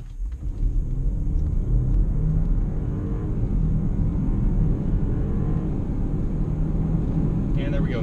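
Audi Q5 accelerating hard from 0 to 60 mph, a loud sustained engine and road rumble building steadily over eight seconds, heard from inside the cabin.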